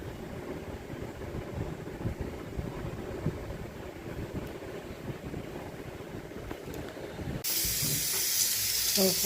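Paneer frying in a pan gives a steady, close hiss and sizzle that holds even for most of the time, then swells brighter and louder near the end.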